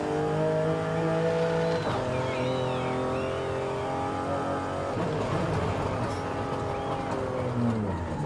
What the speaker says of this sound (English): we are keeping the sound of the engine